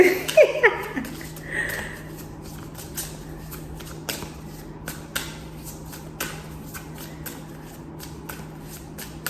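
A tarot deck is shuffled by hand with a rapid riffle and then steady soft card flicks and taps as a card is pulled, close and moderately loud, with a brief laugh near the start.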